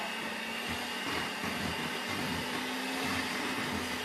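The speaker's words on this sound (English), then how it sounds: "Grab your handy dandy mixer." An electric hand mixer whirs steadily as it mixes bread dough in a bowl, a continuous close motor drone holding one pitch without pauses for the full stretch.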